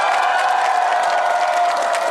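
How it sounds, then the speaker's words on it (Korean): Dense, steady applause from a large audience at a Korean political rally, loud and continuous clapping filling the whole moment without pause. "우리 옆 사람들한테 응원의 박수 한번 부탁드립니다."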